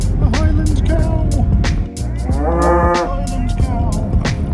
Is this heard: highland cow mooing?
yes